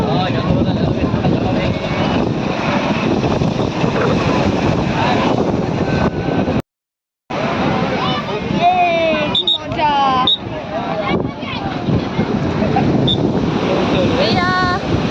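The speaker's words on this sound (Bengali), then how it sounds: "ঠান্ডা হাওয়াটাই তো পেয়েছিলাম।" Wind buffets the microphone on Digha beach with surf beneath it, a loud continuous roar broken by a short dropout, while people talk over it.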